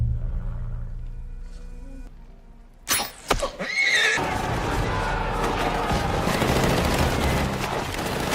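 Horses whinny and gallop amid bursts of rapid gunfire during a battle between apes on horseback and soldiers in War for the Planet of the Apes, with sharp shots near the start and a dense, loud roar of combat after.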